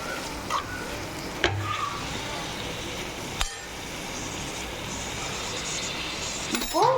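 Chicken mince sautés in a pan with a low, steady sizzle, punctuated by a few sharp utensil clinks and scrapes against the metal, with no talking.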